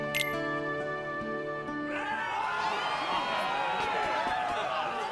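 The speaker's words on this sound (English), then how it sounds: "And here comes the crowd." A crowd cheers in a Kingdom Hearts II Final Mix arena, a dense swelling roar of many voices that rises in after a held musical chord and keeps going steadily to the end.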